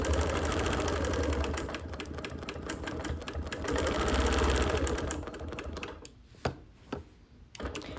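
A sewing machine quilts a sampler block made of larger pieces, running in steady stitching bursts with frequent short backtracking, loud and close before stopping near the end, leaving a few isolated clicks.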